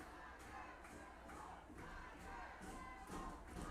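A crowd at a high school baseball area playoff game roars and chants in a steady, dense wash of voices with rhythmic surges, heard at a distance and fairly faint.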